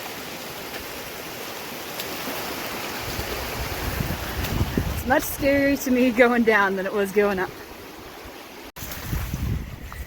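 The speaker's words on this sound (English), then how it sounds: "Just navigating some waterfalls." Rushing stream water and small waterfalls in a Death Valley canyon near Panamint City, a steady wash under wind noise with a hiker speaking over it partway through.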